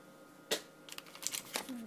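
Paper and plastic wrapping from a Kyocera Rise phone box rustle and crinkle in short bursts, one sharp crackle followed by several softer scattered rustles, close by with no talking.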